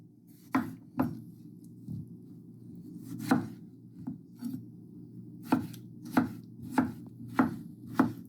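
A knife chops vegetables briskly on a cutting board for a Greek salad, sharp irregular knocks, near and clear, with no talking.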